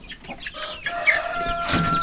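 Chickens cluck and squawk close by, a few sharp calls rising over soft outdoor background noise.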